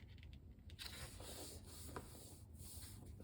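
A paper card base folded and burnished by hand, a soft close rubbing and scraping with a few short strokes, faint and dry, no voices.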